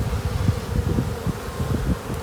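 Honey bees buzz steadily and close by during a spring hive inspection on a frame of capped brood, a dense continuous drone that never breaks.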